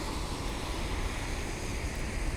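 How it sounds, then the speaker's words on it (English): Light rain shower outdoors on a chilly day at an airport plane-spotting spot, a steady soft hiss of falling drops mixed with wind noise, continuous and even throughout. "We just got this really light shower moving through."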